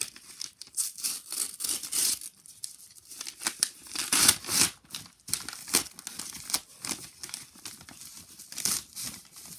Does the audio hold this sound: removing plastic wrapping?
yes